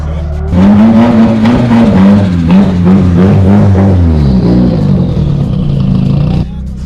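Drift car revving hard as it lights up both tyres, a loud, continuous wavering engine roar with pitch rising and falling across several seconds, a brief high tyre squeal, then dropping back near the end; voices speak underneath.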